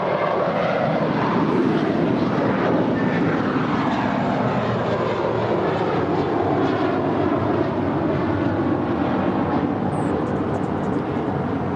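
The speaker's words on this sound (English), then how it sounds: "That is a minty fresh JetBlue 624 off to JFK, a 5-year-old A321." A five-year-old JetBlue Airbus A321 departs Los Angeles airport for JFK with a loud, sustained jet roar that sweeps in pitch as it passes and fades, with no talk over it.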